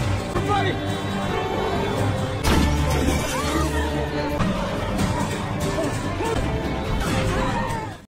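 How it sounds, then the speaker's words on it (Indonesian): A car crash in a film: a sustained loud burst of shattering glass and crunching metal, peaking around the middle, with crowd-like noise and a narrating voice layered over the impact. "Beruntung Ned pun berhasil menyenggol mobil Marek"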